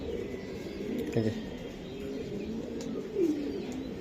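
Pigeons of fancy breeds such as Budapest, Pakistani and Madrasi softly cooing nearby, low murmuring calls with a slightly louder coo near the end, no talking.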